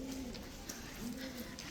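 Pigeons coo softly inside a deep stepwell at Uparkot in Junagadh, two low drawn-out calls spaced about a second apart over faint echoing background noise.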